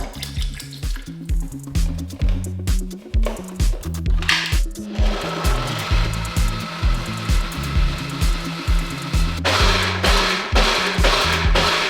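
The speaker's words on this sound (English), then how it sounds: "I finished blending those dates and the water" A blender whirs through dates, water and almond milk with a steady, loud pulsing churn. The repeating rhythmic thumps carry through the whole stretch, and a brighter whine comes in toward the end.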